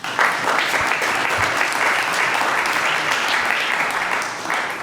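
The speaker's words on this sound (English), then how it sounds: "Round of applause, please" An audience at an evening Torah gathering breaks into sustained applause, a dense, steady wash of clapping that holds at even loudness for the whole stretch and eases slightly toward the end.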